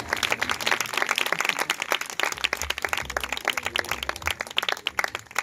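A congregation at a church gathering claps in a steady, rhythmic pattern, loud and continuous with a faint low murmur beneath.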